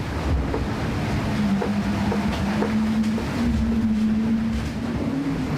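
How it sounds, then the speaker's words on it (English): A foiling racing sailboat at speed, with a steady rushing roar of wind and water and a faint whining tone from the foils rising and falling through it. "The foils make a dreadful noise."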